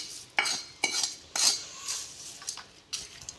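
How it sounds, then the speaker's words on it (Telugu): Cooked rice being stirred and mixed with a metal spoon in a pan for mango pulihora, with several distinct scraping clinks of utensil on pan at an uneven pace, close and fairly quiet. "మిక్స్ చేసుకోవాలి ఇలా చూపించిన విధంగా."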